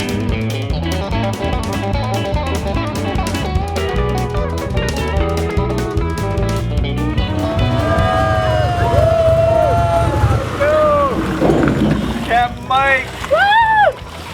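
Airboat engine running during a mount climbing test, a loud continuous drone with rising and falling pitch sweeps as the throttle changes, voices talking and calling out over it toward the end.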